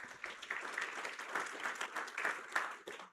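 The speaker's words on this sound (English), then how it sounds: "so a big round of applause" Audience applause from a large crowd at a Currie Cup rugby event in Cape Town, a steady dense clapping that runs throughout with slight swells and fades near the end.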